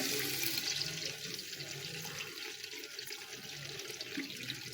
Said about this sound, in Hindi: अब हम इसके अंदर दूध डाल देंगे